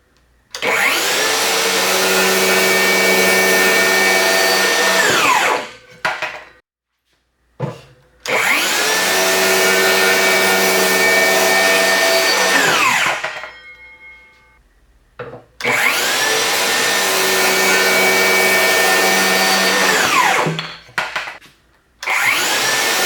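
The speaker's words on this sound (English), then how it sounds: "just have a 2x4 clamped to my little work stand here. And just going to take a few crosscuts and see how it does" A DeWalt Flexvolt 60V cordless circular saw (DCS578) crosscuts a clamped 2x4 on a work stand: three loud, sustained whining cuts of about five seconds each, separated by short pauses as the blade spins down.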